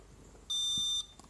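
A single high electronic beep from a refrigerator alarm sounds for about half a second, sharp and steady, in an otherwise quiet room.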